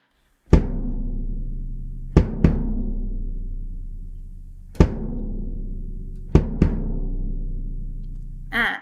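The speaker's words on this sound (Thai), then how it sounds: "อันที่สองคือเสียงตีกลองนะคะ" A drum is struck five times, single hits and quick pairs, each a loud close boom with a long resonant decay ringing between strikes, and no talk.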